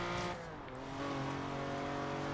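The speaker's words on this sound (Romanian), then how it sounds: "cum se aude motorul asta, zici că e o pisicuță care toarce" Lamborghini engine running steadily in a car just out of a corner, a smooth, loud, continuous purring drone with a low steady rumble and a slight dip before holding constant.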